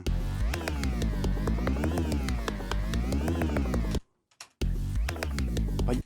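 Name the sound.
layered synth bass sounds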